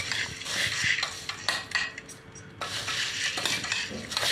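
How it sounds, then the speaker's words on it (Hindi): Jhal muri, the spicy puffed rice snack, is tossed together in a bowl, with irregular scraping, clinking stirs and clatter of utensil against the vessel, close and without talk. "एना कऽ के पूरा मिक्स कर लिया।"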